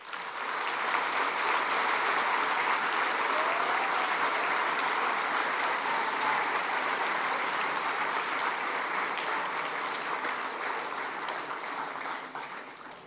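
Sustained, dense applause from a large audience honoring the staff at a 2020 New Year's greetings ceremony, steady and loud for about thirteen seconds before tapering slightly at the end.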